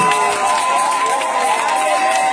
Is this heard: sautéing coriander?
no